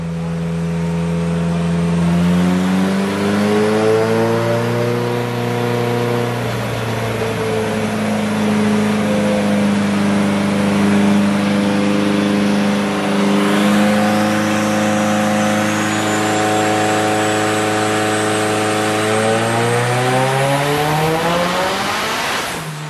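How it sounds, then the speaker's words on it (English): A car engine under a Haltech ECU climbs through a long power run on a dyno, revving loud and steady for about twenty seconds, dipping briefly midway and then rising again before cutting off at the end. "Soon enough, we're ready for a power run,"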